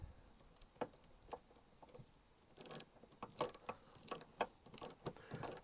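A bolt is wound in with a ratchet on the bottom of a door shield plate fitted to a Citroen Relay camper, drawing the thread through. The ratchet clicks come in irregular bursts, close and fairly quiet.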